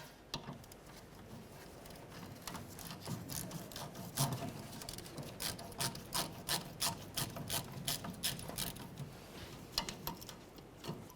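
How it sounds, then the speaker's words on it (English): A rubber fuel hose is worked off the filler neck of a 2004–2015 Nissan Titan, giving quiet, close rubbing and scraping with a run of fast, rhythmic ticks and squeaks, and no voices. "then pull the hose off of the filler neck"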